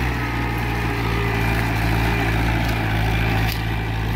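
An old-model Mahindra Sarpanch 475 DI tractor engine runs in first high gear, a loud, steady, close diesel drone with a constant low throb and no voices.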